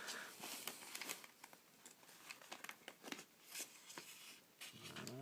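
Flashlight packaging is cut open with a small Spyderco Bug knife, producing close, quiet plastic crinkles and scraping cuts in irregular bursts.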